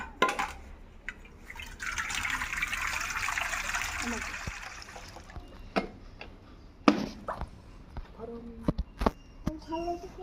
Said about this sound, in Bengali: গরম পানি নিয়ে আসছি মুরগিকে মুরগিতে দিয়ে পরিষ্কার করার জন্য তো পানিটা প্রথমে ঢেলে দিই